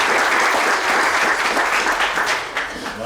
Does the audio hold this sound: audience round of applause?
yes